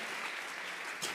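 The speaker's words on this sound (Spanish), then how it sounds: "Vamos a regalarle ofrendas de palmas al Dios de la gloria." A church congregation applauds in a steady, dense wash of clapping that holds at an even level through a short stretch, with no speech on top.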